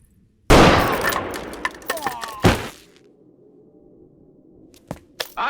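Gunfire in the 1975 Hindi film Sholay: a loud burst of sharp reports opens the clip, followed by a few scattered cracks, then a quieter stretch with two or three isolated shots near the end.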